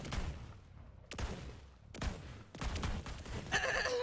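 The Queen's Call legendary handgun fires from the hip in Borderlands 3, four sharp shots spaced about a second apart with booming tails, followed by a brief electronic chime.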